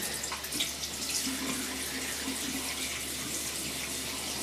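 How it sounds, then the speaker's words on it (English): Tap water running steadily for a light rinse in a bathroom sink during a wet shave, a soft continuous splashing stream with no talking. "And do a very light rinse."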